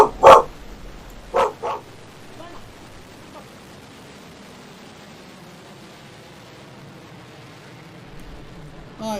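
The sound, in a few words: dog barking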